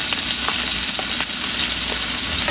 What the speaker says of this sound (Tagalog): Lagay na natin yung 2 cloves of garlic. Isang sibuyas.